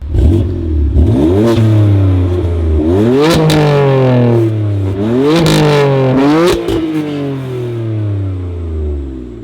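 BMW M2 Competition F87 engine revving through its exhaust, loud and close, with several sharp climbs in pitch that fall back between blips, the revs repeating in a rough rhythm.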